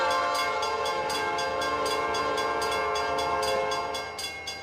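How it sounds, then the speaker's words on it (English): In the Trainz 2022 railway simulator, an automatic train whistle blows long and loud over the rhythmic clatter of a running train, with steady repeating wheel beats that fade slightly at the end. "Oh, and the automatic whistle's working too."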